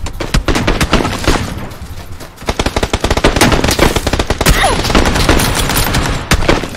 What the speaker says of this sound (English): Someone shot.